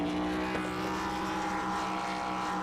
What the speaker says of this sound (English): we got a little power braking coming off there